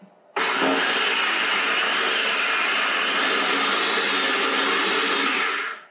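A Pampered Chef blender kicks on abruptly and runs at its full setting, giving a loud, steady high-pitched whirring roar for several seconds before cutting off, with no voices.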